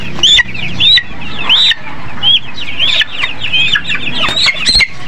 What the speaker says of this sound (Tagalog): Mga inahin.